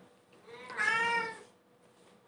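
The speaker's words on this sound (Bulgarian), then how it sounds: "Това е котката ми, Тошка." A pet cat named Toshka gives a single drawn-out meow, close and clear, rising and fading over about a second against a quiet room.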